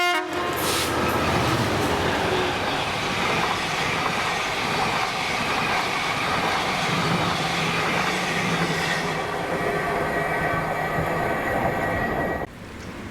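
A GBRF class 67 locomotive, 67023, hauls an empty stock train past in Scotland, a loud rumbling roar with rail noise and a horn blast at the start, steady throughout before cutting off near the end.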